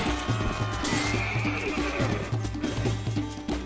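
A horse whinnies loudly in the video game Mount and Blade: Warband, its neigh rising above a background of rhythmic hoofbeats and battle din, with no talking.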